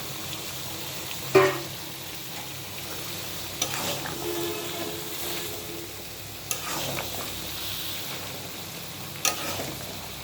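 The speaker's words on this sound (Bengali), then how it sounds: "এই পর্যায়ে আমি বেগুন দিয়ে দিব" Eggplant goes into a pan of sautéing potato and broad beans for a winter mixed-vegetable labra, giving a steady close sizzle with occasional stirring scrapes and a few sharp clinks.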